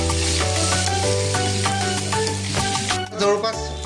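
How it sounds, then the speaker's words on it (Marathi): Tomatoes fry in a pan for a dhaba-style chicken handi, giving a steady sizzle with scattered clinks and stirring sounds over a tonal background hum. "हा टोमॅटो जो आहे तो पण आपण चांगला हा फ्राय करून घेऊ"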